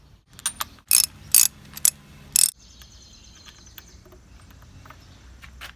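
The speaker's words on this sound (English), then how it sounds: "Grabbing the socket and ratchet, we are going to remove each plug." A socket and ratchet clicks in short sharp bursts while spark plugs come out of an outboard engine, loud and close for about two seconds, followed by a quieter, faint mechanical hum.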